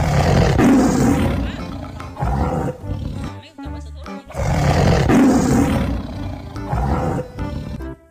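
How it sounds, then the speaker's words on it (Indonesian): A striped tiger roars in heavy, drawn-out bursts, two long loud roars separated by quieter growling grunts, close and dominating, with a voice talking over parts of it. "Wih, macan belang ya,"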